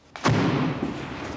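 A special effects explosion with flame, set off for model filming, gives a single sharp burst followed by a brief roaring rush that quickly fades.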